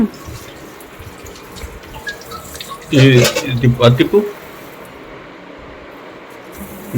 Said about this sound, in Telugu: అది తిప్పితే అలా వస్తాయి వాటర్, ఇక్కడ కూడా వస్తాయి